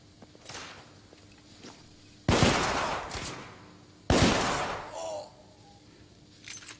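Gunfire in The Order: 1886, two loud, sharp bursts of shots landing a couple of seconds apart, each ringing out briefly before fading, with quieter scattered ambience between them.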